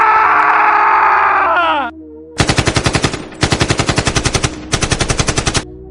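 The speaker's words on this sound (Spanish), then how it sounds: "La gente empieza a disparar mientras grita, desesperados por todos lados." A sustained crowd scream fades out, then three long bursts of rapid automatic gunfire rattle loudly with brief pauses between them, in a dramatic gunfire-and-screaming sound effect.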